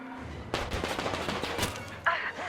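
Burst of gunfire in the Metro Exodus video game, a dense volley of overlapping shots over about two seconds, then a sharper final report, with a voice calling out amid the shooting.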